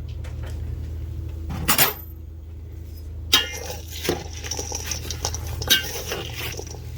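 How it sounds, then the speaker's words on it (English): Spoon stirring a chickpea salad in a bowl, giving a few sharp clinks and scrapes against steady low background hum, with quieter rustling between the louder knocks. "You can stir this around a little bit to mix everything up if you want to."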